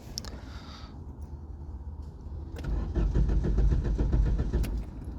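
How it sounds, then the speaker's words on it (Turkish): An old car's engine is cranked and catches, turning over roughly with a rising, rumbling idle and some shaking; a few mechanical clicks come first, with no talk. "bakalım beraber bir çalıştıralım arabayı"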